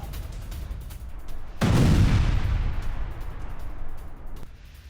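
A Javelin missile strikes a Russian tank in Ukraine, setting off a sudden heavy boom that swells into a loud, rumbling blast and slowly tails off over a few seconds, heard from a distance with no voices.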